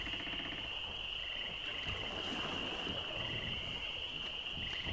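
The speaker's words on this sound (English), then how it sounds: "ooh, little frog down in the water." A frog croaks down in the water in the Monkey Island 2 Special Edition video game, repeating over a dense, steady ambient bed with a constant high whine and no talk.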